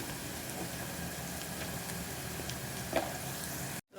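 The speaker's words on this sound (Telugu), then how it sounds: "ఉల్లిపాయ పచ్చిమిర్చి ఫ్రై ఫ్రై అయ్యాక దీనిలోకి హాఫ్ టీ స్పూన్ పసుపు వన్ టీ స్పూన్ కారం" Onions and green chilies fry in a pan with turmeric and chili powder, giving a steady close sizzle broken by a few soft stirring scrapes, with no talking.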